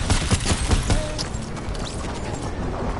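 Video game gunfire with sniper shots, sharp rapid reports crackling loudly in a dense burst of game noise.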